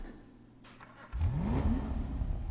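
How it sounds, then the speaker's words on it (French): The engine of a 4x4 off-road vehicle in GTA V Online starts from a quiet idle, then suddenly roars and revs up into a loud, rising growl that holds steady. No voices are heard. "écoutez bien le bruit du moteur"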